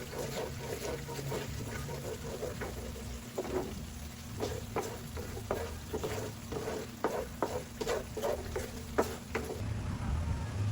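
Vegetables for a biko topping scraped and stirred in a pan, with steady sizzling broken by repeated clacks of the utensil against the metal, close and fairly loud throughout.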